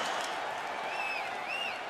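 A crowd roars and applauds steadily at a UFC fight in the EA Sports UFC 3 video game, a dense continuous wash of cheering with a couple of rising whistles, loud and sustained with no talk.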